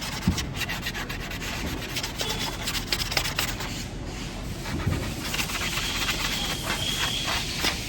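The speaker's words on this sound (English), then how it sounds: "to take off some of the roughness, we're going to sand it" Steady, close rubbing of sandpaper over the roughened edge of a hidden light bar on an INEOS vehicle, a continuous hiss with slight pulsing strokes, no talking.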